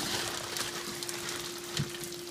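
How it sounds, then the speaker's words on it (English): Rain falls steadily outdoors with water running from a downspout, a soft continuous hiss of drops and trickling with a faint tone underneath and a single brief splash near the end. "We're finally getting some rain."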